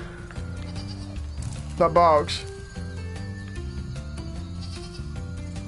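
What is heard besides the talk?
sheep bleating in the video game Spyro Reignited Trilogy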